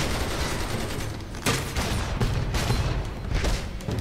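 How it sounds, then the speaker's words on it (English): Gunfire in the superhero video game DC Universe Online: rapid, dense bursts of shots that keep hammering without pause, with heavier booming volleys mixed in, loud and close, and no talking over them. "I can't wait till people stop shooting me in the back."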